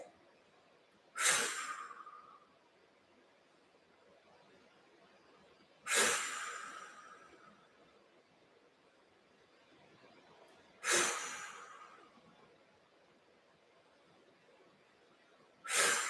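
Forceful, sharp exhales during a power breathing exercise, repeated in a slow, steady rhythm about every five seconds. Each breath starts with a strong rush and trails off, separated by quiet pauses.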